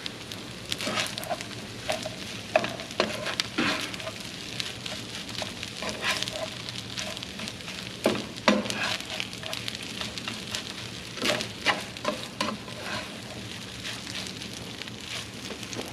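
Cold rice and egg frying in a hot pan give a steady crackling sizzle with scattered sharper pops, close and continuous throughout.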